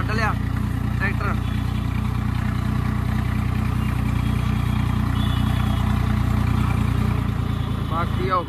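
A tractor engine runs steadily with a low, continuous throb, close and loud throughout, on roads just cleared after overnight rain turned them muddy; someone talks briefly near the start and end.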